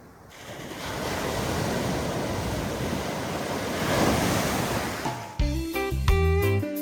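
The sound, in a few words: sea waves at Praia do Pontal beach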